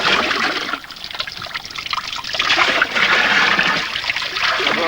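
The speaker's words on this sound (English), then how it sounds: "Better to have a wash in cold water" Water splashes and trickles steadily during a cold-water wash on a 1985 Sahara desert expedition, loud and close, with a continuous pouring and dribbling texture and no talking.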